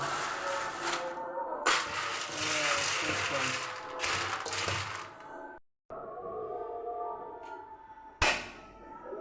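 Popcorn is stirred with salt in a pan in a late-night home kitchen, giving a dense, continuous rattle and sizzle of kernels scraping the pan, with a brief break and a sharp knock near the end.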